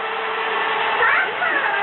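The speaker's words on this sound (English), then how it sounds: "when he turned on the drill" A hand drill used as a mixer runs in the kitchen, a steady high whirring motor whine with a slight rise in pitch partway through, close and continuous for about two seconds.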